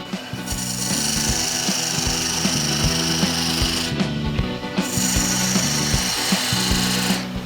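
A wooden workpiece spinning on a woodturning lathe as a tenon is cut, giving a loud continuous scraping, rasping hiss over the motor's hum, with two short pauses in the cutting, close up and with no voices.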